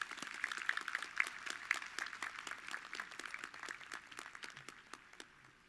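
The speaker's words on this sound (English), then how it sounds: "Let's give another round of applause for our officers." Round of applause for the class officers at a high school commencement ceremony, a dense crowd clapping steadily with a few sharp individual claps standing out, then slowly thinning out toward the end.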